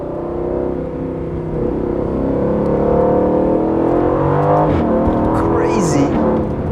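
A 2020 Aston Martin Vantage in Sport Plus mode, its engine and exhaust rising and falling steadily as it drives. The note is loud and constant, with a person talking over it throughout.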